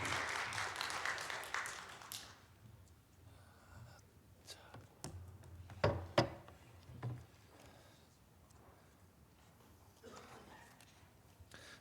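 Congregation applause at a Sunday church worship service as the preacher comes forward, a dense burst of clapping for about two seconds that quickly fades into a quiet hall with scattered murmurs, shuffling and occasional soft clicks.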